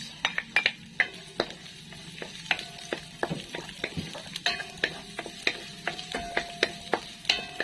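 Garlic and onion frying in hot oil for vegetable lumpia, with a quiet sizzle under repeated sharp metallic taps and scrapes of a utensil against the pan, close and rhythmic, no voices.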